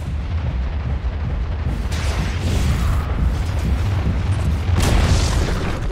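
Rolling explosive blasts in Dota 2 while the Dire bottom tower is under attack, loud and continuous, with stronger bursts swelling near the two-second mark and again near the end.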